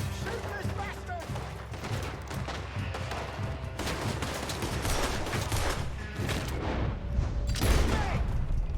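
Gunfire in Red Dead Redemption 2 crackles in dense, rapid shots through a chaotic fight, loud and continuous, with shouting voices mixed in.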